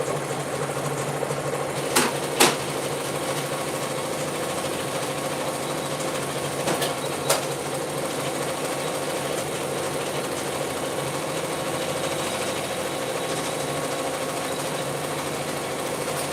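Embroidery machine stitching a clutch purse in the hoop, a continuous mechanical hum and rattle running steadily throughout, with a few faint clicks early on.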